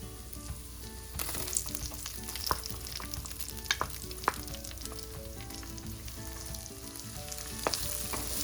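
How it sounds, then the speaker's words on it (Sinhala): Squid stir-fried with garlic, ginger and salt, a quiet steady sizzle of oil with small crackles and pops and occasional stirring taps in the pan, no talk. "මම දැන් මේ හොඳින් කලවම් කරලා තරමක් දුඹුරු පාට වෙනකම් බැද ගන්නවා."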